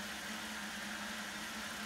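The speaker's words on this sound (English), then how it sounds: "is a 30 horsepower variable speed pump, okay?" A 30 horsepower variable speed pump pressurizing a center pivot irrigation system in Colorado runs as a steady, even mechanical hum with a constant low drone and airy background noise throughout.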